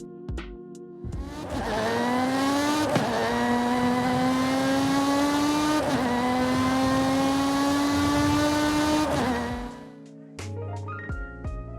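A 4-rotor swapped car in Forza Horizon 5 revs hard with a loud, buzzy, high-pitched rotary wail, climbing steadily through two quick gear shifts before cutting off and settling back to idle.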